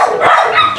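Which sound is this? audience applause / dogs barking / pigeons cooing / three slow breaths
dogs barking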